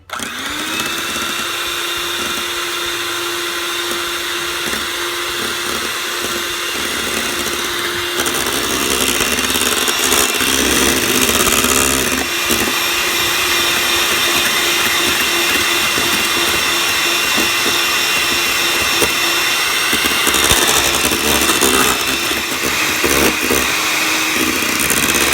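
A Farberware electric pressure cooker starts up with a steady mechanical whir and hum that runs on continuously, growing slightly louder partway through, close and alone without talk.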